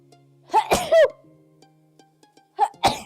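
A single sharp human sneeze bursts out with a quick intake before it, followed by a quiet pause and another short vocal burst.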